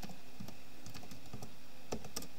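Code is typed on a computer keyboard in Roblox Studio. The keystrokes are close, crisp and irregular, with occasional louder clacks over faint background hum.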